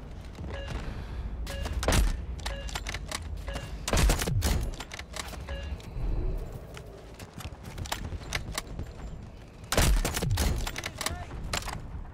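Gunfire in the shooter game Delta Force, sharp shots in irregular bursts and single cracks with quieter stretches between, some voice in the background.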